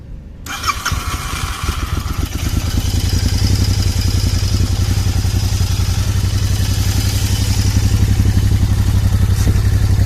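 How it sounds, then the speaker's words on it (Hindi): A modified Royal Enfield Continental GT650 parallel-twin motorcycle fires up after a brief pause, then its exhaust settles into a loud, steady, throbbing idle close by. "एंड इसकी एग्जॉस्ट नोट सुन ले"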